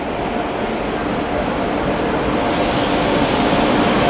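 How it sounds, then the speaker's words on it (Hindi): An LHB Garib Rath Express train rolling into Banaswadi station, a loud continuous rumble of coaches and wheels with a brighter hiss rising partway through, heard close to the track. "फाइनली यहाँ पे अपनी LHB गरीब रथ एक्सप्रेस, 10 मिनट की देरी से गरीब रथ"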